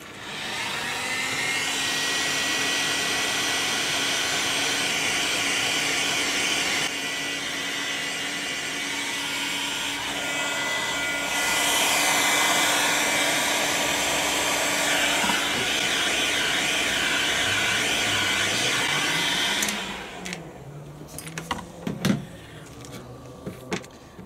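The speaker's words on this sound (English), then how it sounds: "I'm going to use the heat gun" A heat gun blows on heat-shrink tubing, giving a steady, loud, close whooshing roar with slight shifts in tone for about twenty seconds. It then cuts off, and a few soft handling clunks follow.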